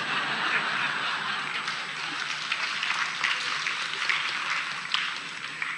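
Audience applause during a lecture about language, steady clapping from a crowd that swells and continues throughout, with small bursts on top.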